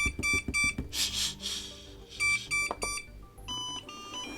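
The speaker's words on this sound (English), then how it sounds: "in case you lose the robot, you can make it beep" Repeated electronic beeps in short bursts, a MOOSOO MT-501 robot vacuum chirping its locator tone in a quiet room, fairly close and clear.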